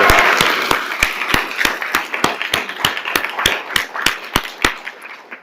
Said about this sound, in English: Let's applaud Amelia